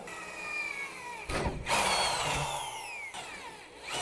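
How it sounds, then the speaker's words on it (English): A power drill bores bolt holes for soft upper door adapters on Motobilt half doors, a steady high whine that bogs and surges as the bit bites, close and loud with brief changes in pitch. "So we're just gonna drill it."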